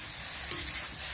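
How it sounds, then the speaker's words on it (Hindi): Cauliflower frying with spices and salt in a pan gives a continuous close sizzle and stirring hiss, with one faint clink partway through and no talking. "तो अब ये नमक डाल के और इसको बढ़िया से भून लेते हैं।"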